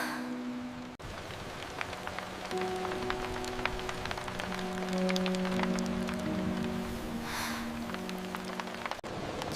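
Rain falls on a surface around a quiet home, a faint, steady patter of drops with a few sharper taps. Soft tonal background hum runs underneath, and there is no talking.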